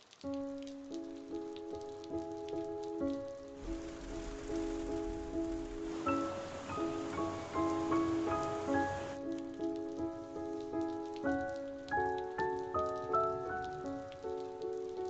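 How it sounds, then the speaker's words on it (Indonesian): A few seconds of steady rain hiss in the middle of a gentle melodic music score, fading back out so that only the soft tune carries on. "Hujan. Hujan juga."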